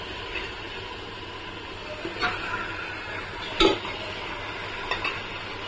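Washed mutton fries in fried onion paste for a homemade mutton biryani. A soft sizzle runs under several distinct scraping and clinking stirs of a utensil against the pot, with no voices.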